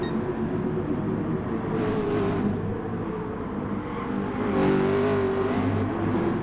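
Race car engines in the GT Sport video game on the Nurburgring Nordschleife, downhill through the Echbach section: a steady, loud engine drone with two rising whining passes and rushing air, no voices.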